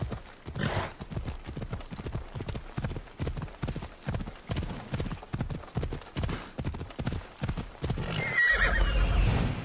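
Horse in the Assassin's Creed game set in ancient Greece, hooves clip-clopping in a steady galloping rhythm throughout, loud and close, ending with a whinny and rushing noise near the end.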